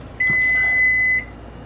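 A single steady electronic beep, loud and close, lasting about a second, from a Furrion microwave oven powering up after being plugged in, over a quiet room hum.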